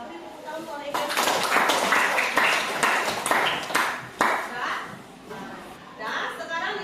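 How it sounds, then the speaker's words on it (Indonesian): A classroom of students applauds a classmate: a burst of dense clapping that swells after a teacher's voice, runs for several seconds, then tapers off as speech returns. "Beri tepuk tangan untuk Laila."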